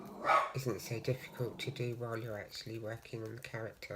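Small dogs bark and yip a few times in another room, faint and partly buried under close, steady talking.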